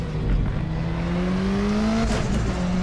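Car engine at the Anderstorp circuit in Sweden dropping down to first gear, then revving up steadily under acceleration; a loud, close, continuous rising drone with a slight tire scrub and a gear change near the end.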